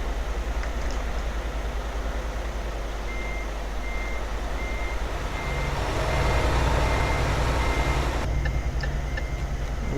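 Reversing beeps from a truck in the Euro Truck Simulator multiplayer game: a steady run of evenly spaced electronic beeps over a constant loud engine drone, with rumbling traffic growing louder toward the end.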